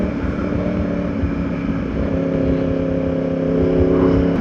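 Yamaha R1 sport motorcycle engine held at a steady partial throttle while riding, a continuous buzzing drone rich in harmonics that swells slightly near the end, close and loud, with no talk.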